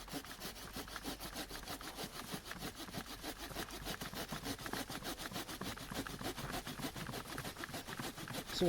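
A hand saw cuts steadily through the top of an oak trunk back to a new leader, with a rapid, even rhythm of rasping back-and-forth strokes that continues close and alone for the whole stretch.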